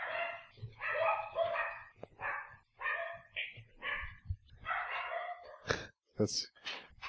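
Dogs bark repeatedly in loud, close bursts, with yips and a whimpering edge between barks.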